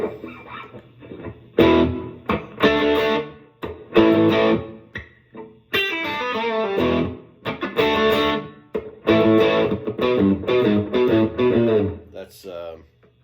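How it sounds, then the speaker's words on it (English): A Fender American Professional II Stratocaster HSS on its bridge humbucker plays slightly overdriven chords and single-note phrases, loud and close, in bursts with short gaps between them. "I'm gonna do some slightly overdriven tones"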